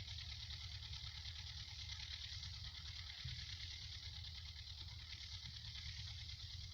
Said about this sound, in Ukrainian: Вибачаюсь за звук, трактор рядышком поле орає.